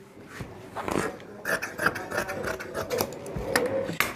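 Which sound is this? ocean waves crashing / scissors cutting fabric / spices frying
scissors cutting fabric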